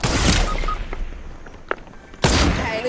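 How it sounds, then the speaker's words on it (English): Gunfire in the video game Fortnite, with a loud burst at the start and another toward the end, separated by scattered softer pops and impacts. "Is that guy shooting you?"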